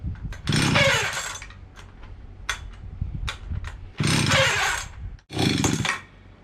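Antique Stihl 031 chainsaw on full choke sputtering to life in several loud bursts of revving, with ragged gaps between them as the engine nearly dies.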